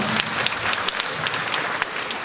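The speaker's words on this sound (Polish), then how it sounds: "Brawa, brawa." An audience at a cultural centre's patriotic sing-along applauds a city president, giving a dense, steady round of clapping with a few louder, sharper claps standing out, and no talking.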